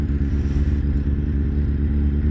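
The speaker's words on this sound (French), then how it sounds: "j'en profite pour faire un petit tour de moto" A motorcycle carries a rider along at a steady, moderate pace, its engine droning loudly and continuously with a rough, low throb and light clatter.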